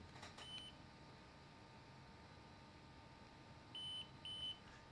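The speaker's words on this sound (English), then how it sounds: "It's beeping to let me know it's done." Short electronic beeps from a BoboVR S3 Pro battery head strap for a Meta Quest 3 at full charge, a quick pair early and two more near the end, faint against a steady low hum.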